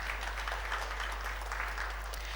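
Audience applause at a business leadership event in Nigeria, a steady wash of clapping held at an even level throughout without any talking.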